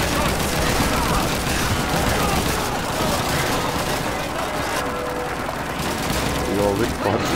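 Gunfire in the World War II shooter game Call of Duty 2, a dense, continuous fusillade of rifle and machine-gun shots under a loud battle mix that runs the whole time without pause.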